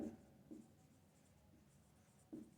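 A marker or chalk scratches across a board during an electrical engineering lecture on distribution systems, in three short, faint bursts of strokes over a quiet room hum.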